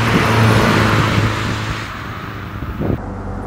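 A restored 1955 Mercedes 190 SL, one of the first built, revs its engine while driving, a steady mid-pitched drone that swells and then eases off, heard from inside the car.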